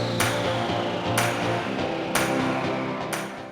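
A spoon stirs cream puff dough in a pot, knocking the metal rim with a bright clink about once a second over a steady scraping churn, close and alone.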